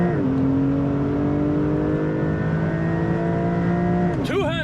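A Porsche 911 992 Turbo S accelerates hard from inside the cabin, its loud engine tone climbing steadily through a long pull before a sudden gear change near the end.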